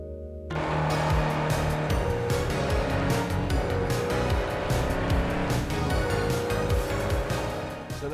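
A car driving in the Cyberpunk video game, a loud engine hum rising and falling in pitch through gear changes, with a low musical drone and bursts of rhythmic noise layered over it throughout.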